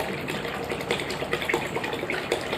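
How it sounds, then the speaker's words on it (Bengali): Water from a one-litre measure poured steadily into a bowl, a continuous close gushing splash with no talk over it. "এবার আর 1 লিটার যে জল ছিল সেই জলটাকেও কিন্তু এই বাটিটার মধ্যেই ঢেলে নেব।"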